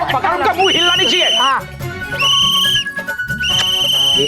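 A whistle lodged in a man's throat shrills in repeated loud, wavering blasts, mixed with strained vocal groans, close and dominant from start to finish.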